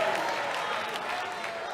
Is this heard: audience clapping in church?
yes